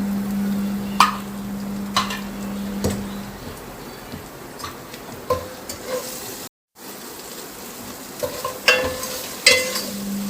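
Salted masala sizzles in a pan while a spoon stirs it in steady scraping strokes about once a second. The sound is close and clear, with a low steady hum early on and a brief dropout midway.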